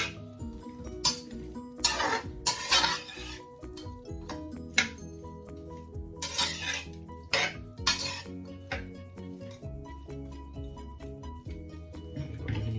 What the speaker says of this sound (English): Just mix them around, keep mixing them